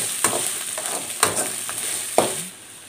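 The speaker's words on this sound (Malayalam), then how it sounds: "ഇനി നമുക്ക് സവാള ചേർത്ത് കൊടുക്കാം" Onions tossed into a pan where ginger and garlic are already sautéing, a steady sizzle broken by a few sharp scraping stirs of a utensil, close and without speech.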